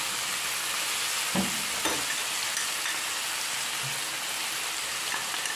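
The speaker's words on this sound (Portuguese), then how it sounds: "vou começar a polvilhar o nosso franguinho" Chicken pieces fry in a pan for a chicken stroganoff as cornstarch is sprinkled over them, producing a continuous close, bright sizzle with a couple of soft stirring knocks and no talking.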